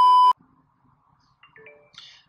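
A phone notification sounds as a loud, sharp electronic beep at the very start, then cuts off, leaving faint soft tones and quiet rustling in the indoor scene.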